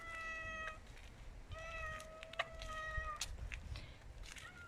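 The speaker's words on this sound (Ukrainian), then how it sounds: "Люди добрі, це не мій кіт. Він сусідський" A neighbour's cat meows several times in a row, drawn-out and fairly close, over a low background hum with no talking.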